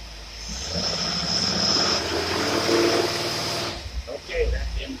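A Pontiac engine fitted with a Carter AFB carburetor runs in gear, a steady loud mechanical drone that holds for about four seconds before dropping away into a few uneven rumbles.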